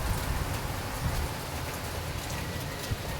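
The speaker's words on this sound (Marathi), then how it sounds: "खूप डेंजर पाऊस आहे बाबा." Heavy rain pours down during the first rain of the season, a dense, loud, steady hiss of drops drumming on surfaces with no letup.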